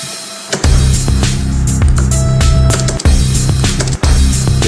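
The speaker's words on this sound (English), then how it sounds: "That was like my crash with a lot of reverb personally." A loud, sustained wash of sound rings out with heavy reverb, like a crash cymbal in a big room, broken by a couple of brief cuts.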